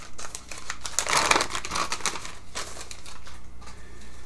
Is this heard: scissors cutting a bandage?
yes